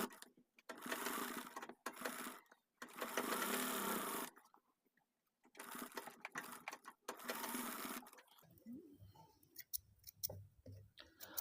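A sewing machine stitches the lining of a circular handbag in several loud, close bursts of steady whirring separated by short pauses, ending with quieter light clicks and handling noises.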